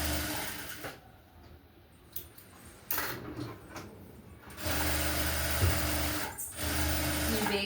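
A sewing machine stitches the lining of a blouse, with short mechanical runs early on giving way to a louder, steadier whirring stretch near the end and a faint room hum between bursts.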